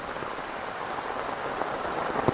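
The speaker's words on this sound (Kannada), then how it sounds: "ಇಲ್ಲಿ ನೋಡಿ ಹೇಗೆ ಮಳೆಯಲ್ಲಿ ನೀರು ಹೋಗ್ತಾ ಉಂಟು ಅಂತ." Heavy rain pours down in a Karnataka village while runoff flows along the road, a dense, steady hiss of drops and running water at constant loudness with no voices.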